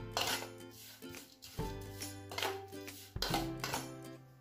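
A spoon mixes parmesan cheese and condiments in a bowl for cuttlefish, making repeated clinking and scraping strokes against the bowl in close, rhythmic bursts with no talking.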